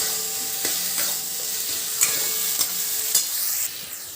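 Garlic and tomato paste frying with spices in a pan for a stuffed pointed gourd dish, a steady close sizzle broken by a few sharp stirring scrapes and knocks of the spoon.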